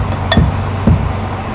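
Two sharp, ringing strikes about half a second apart, each a metallic clink with a low thump beneath, as a CNG bus tire is struck to check it, against a steady low hum.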